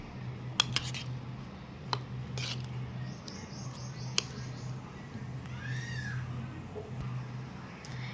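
A spoon stirs chopped coriander into curd vada in a bowl, giving a few faint metallic clinks and a soft scrape over a low, steady background hum.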